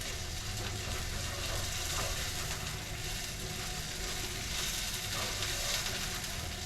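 Onions and potatoes frying for hash in a cabin kitchen: a steady, close sizzle and crackle of oil, continuous and even throughout, with no talking.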